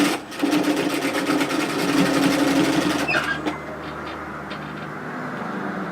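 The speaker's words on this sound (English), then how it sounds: "I'm just going to run a row of stitches directly on top of that gathering stitch" A sewing machine runs a line of stitches over a gathering stitch on dress fabric, a loud steady whirring hum for about three seconds that then stops abruptly, leaving quieter room sound with a few faint clicks.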